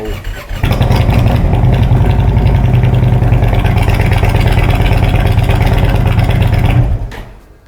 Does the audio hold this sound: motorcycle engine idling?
yes